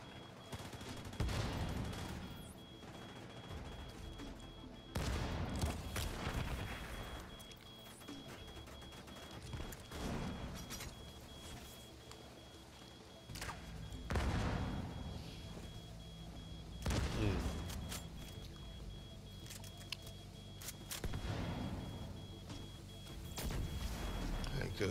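Gunfire rings out in the shooter game Tom Clancy's The Division 2, in repeated bursts of rattling shots and sharp cracks spread across the stretch, with someone talking between them.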